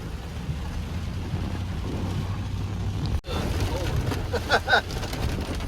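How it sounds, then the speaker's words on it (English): Heavy rain from Tropical Storm Fred drums steadily around a moving vehicle in the mountains, a dense continuous wash of noise with a brief cut partway through and a few louder bursts. "We are now cruising along, witnessing the effects of Tropical Storm Fred."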